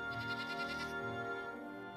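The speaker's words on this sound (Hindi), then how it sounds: "ये सब गांव वालों की बकरियां हैं।" Cartoon goats belonging to village folk bleat in a quavering, wavering chorus, a couple of drawn-out calls close up and fairly loud over a steady background, with no talk.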